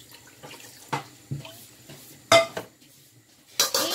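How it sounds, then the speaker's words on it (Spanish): Water being poured into a pot of beef ribs cooking in sauce, heard as a few short splashes and clinks of pot and utensils spaced out over a quiet kitchen, with no talk. "Le voy a estar poniendo otro poquitico más de agüita, pero muy poco"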